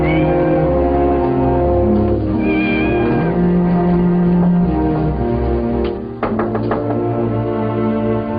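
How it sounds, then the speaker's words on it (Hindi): A cat meows loudly and close up, with several drawn-out, wavering cries running through the first half, then a few sharp knocks near the end. "Nice kitty."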